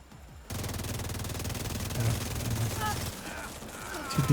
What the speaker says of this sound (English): Two people are shooting here.